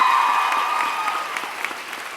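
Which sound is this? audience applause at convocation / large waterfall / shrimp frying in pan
audience applause at convocation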